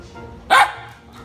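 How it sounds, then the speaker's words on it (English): A single sharp dog bark rings out close by against a quiet background. "why do you bark?"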